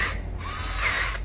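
A Japanese cordless power drill with a 10 mm chuck runs in drill mode, a brief, fairly faint, continuous motor whir that rises and falls slightly, with no one talking.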